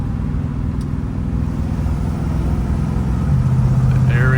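An old Dodge Dart's engine rumbles steadily while driving, loud and close, as the transmission works toward overdrive. A low drone rises in pitch near the end.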